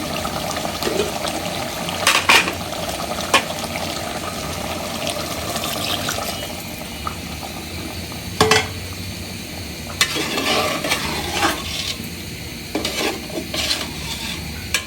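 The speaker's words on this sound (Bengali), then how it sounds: "পাতিলে রান্না করাটা খুব ভালো হয়, প্রায় মাঝে সাঝে এরকমভাবে নেড়ে দেওয়া যায়" Beef curry with whole spices cooks in a pot while a spoon stirs it, producing intermittent scraping and clattering strokes over a constant wet sizzle, close and fairly loud.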